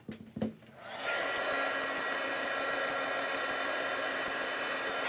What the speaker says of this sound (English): let's heat that up with our heat tool